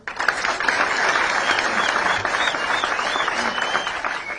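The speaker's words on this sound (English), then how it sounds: "You can clap for him." An audience applauds steadily throughout, a dense, sustained wash of many hands clapping at a public gathering, fairly loud and continuous with no clear voices standing out.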